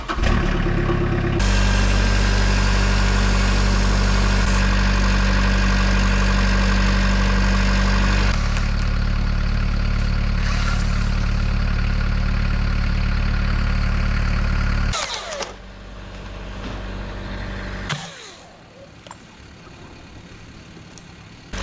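A chainsaw idles loudly and close during backyard logging, a steady buzzing engine drone with its pitch shifting a few times, then dropping away to quieter outdoor ambience near the end.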